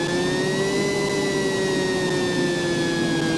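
A Ferrari 250 GTO engine, fitted with new pistons, revs on a dyno in Car Mechanic Simulator 2018, holding a loud, steady, high-pitched whine that sags slightly as it sustains.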